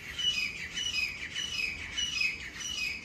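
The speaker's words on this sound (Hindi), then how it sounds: "कितना अच्छा बोल रहा है ये, जो भी है मुझे नहीं पता ये कौन सा पक्षी है" An unidentified bird sings in a home garden among blooming roses, repeating bright clear chirps and whistled phrases in a steady rhythm, fairly near and alone without talk.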